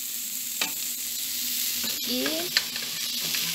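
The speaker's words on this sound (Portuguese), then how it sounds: "Fritar a calabresa." Calabresa sausage frying in a pan at home for a New Year's lunch, a steady close sizzle with a few stirring scrapes and clinks, no talking over it.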